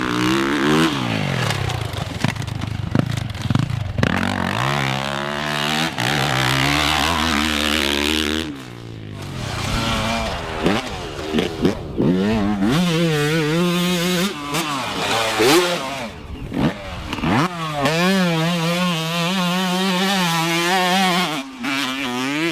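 A two-stroke dirt bike engine revs and drops repeatedly while riding trails, loud and close with rising and falling pitch, rattling and scraping between throttle bursts.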